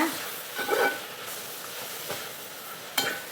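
Cut tomatoes being stirred in a large pan of tomato rice for twenty people, a soft sizzle under scattered scraping strokes of the spoon, close and fairly quiet.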